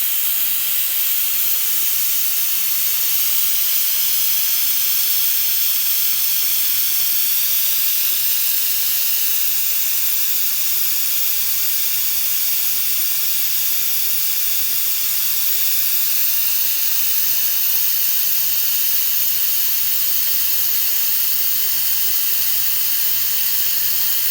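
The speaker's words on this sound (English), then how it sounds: "I'm gonna release the steam, and for those of you that are still nervous, remember, never put your hand above this valve" An Instant Pot pressure cooker releases steam through its valve, producing a loud, constant high hiss that holds steady throughout, close and with no talking.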